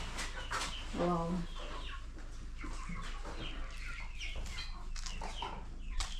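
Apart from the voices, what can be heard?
chickens clucking in a coop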